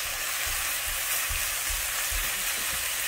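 Rice toasting on high heat in a hot skillet with Italian sausage, a steady close frying sizzle with soft rhythmic stirring scrapes and no talking.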